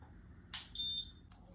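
Diamond tester beeping against an iced-out Patek Philippe watch: a short crisp click, then one steady high-pitched beep, with another brief click after, all in a quiet room.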